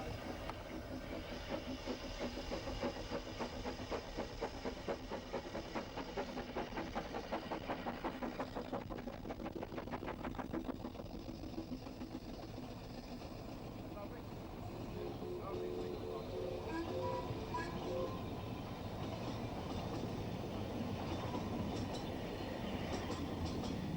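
The Ffestiniog Railway steam locomotive Merddin Emrys runs downhill on the narrow-gauge line toward Porthmadog, a continuous rolling clatter and hiss of train and carriages heard throughout, with a voice speaking over it.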